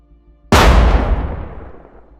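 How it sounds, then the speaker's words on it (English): A single sudden, loud FPV drone explosion strikes a trench after a brief quiet, then decays into a long rumbling tail. "The explosion happens suddenly, neutralizing the soldiers in their trench"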